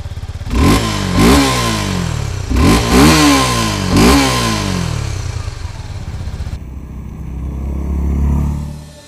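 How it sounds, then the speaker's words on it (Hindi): Suzuki Gixxer SF 250 motorcycle with a 2-port exhaust accelerates while being ridden, several rising revs through gear changes that give a gruff, rasping engine note, up close and loud, settling into a steady rumble. "इसका साउंड काफ़ी ज़्यादा यूथफुल और थोड़ा सा एंग्री और फियर्स साउंड लगता है"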